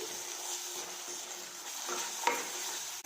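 Chili, turmeric and coriander powder are stirred in a pan for kadai paneer, making a soft steady sizzle with faint scraping and one sharper clink near the end.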